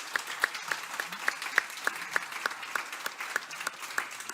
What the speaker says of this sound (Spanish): voy a pedir un aplauso, por favor